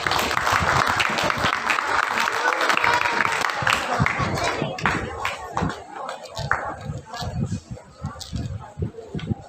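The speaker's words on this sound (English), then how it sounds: "Please give her a round of applause." Applause from an audience at a school festival, steady clapping that fills the room before fading out into scattered claps and murmuring.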